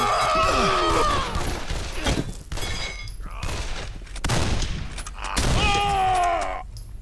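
Gunfire in the video game Condemned: Criminal Origins, a few sharp shots mixed with game noises, grunts and bursts of someone talking over the action.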